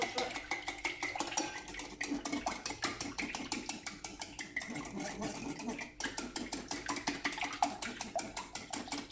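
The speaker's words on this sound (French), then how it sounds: "Alors, je mets une noisette de beurre. Là, je mélange." Butter melting in a pan while being stirred, a rapid, regular clatter of a utensil scraping and tapping the pan in quick strokes, close and continuous over a low sizzle.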